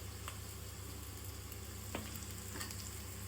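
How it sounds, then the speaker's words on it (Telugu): Carrots, beans and green chillies frying in a pan for street-style egg fried rice, a quiet steady sizzle with a few light clinks of stirring, no voices. "క్యారెట్, బీన్స్ వేసుకుని పచ్చిమిరపకాయలు కూడా ఫ్రై అయ్యాక"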